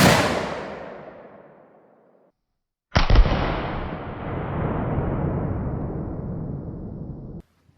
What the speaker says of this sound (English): that was my first 30-06 round